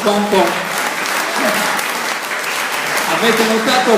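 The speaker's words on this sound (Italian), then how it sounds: "un caldo applauso lo rivolgerei di nuovo anche a Manuela Mameli" Warm audience applause for folk performers at a concert, steady dense clapping filling the whole stretch, with a voice speaking over it at moments.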